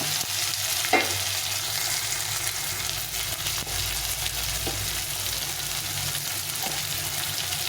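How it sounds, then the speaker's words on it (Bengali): Tomato strips frying in oil for pabda fish curry give a constant close sizzle, punctuated by occasional light taps of a spatula against the pan, with no voices. "টমেটোটা একটু ভাজা ভাজা হবে"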